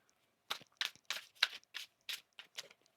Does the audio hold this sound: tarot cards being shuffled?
yes